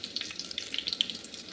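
Onions frying in hot oil with curry leaves, a brief close crackling sizzle with bright popping spatters and no talking.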